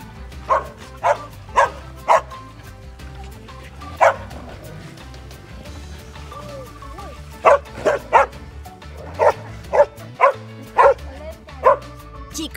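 Dogs bark in sharp bursts of several quick barks each, separated by pauses, close and loud over a low background rumble.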